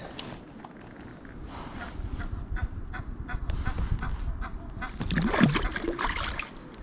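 Ducks honk and quack close by beside the Guadalupe River, repeated calls over a steady rushing background, with a louder harsh burst near the end.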